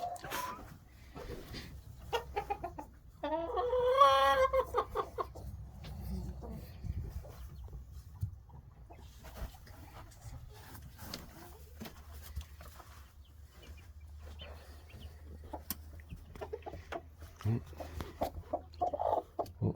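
Hens cluck repeatedly nearby in a coop, with soft rustling and scratching around them and a louder burst of squawking partway through.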